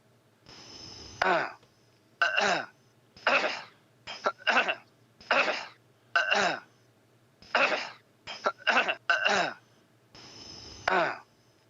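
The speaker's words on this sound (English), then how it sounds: "you cough for us a little" A string of about ten separate coughs, loud and close, evenly spaced with short pauses between them and no talking.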